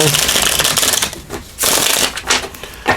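Tarot cards riffle and snap together in quick bursts, a crisp close-up shuffle repeated a few times with short pauses between.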